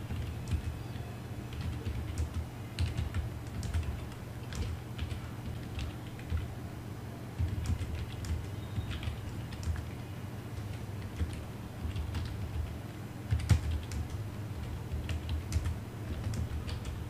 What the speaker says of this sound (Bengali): দেন আমি এখানে কমেন্ট লিখে দিচ্ছি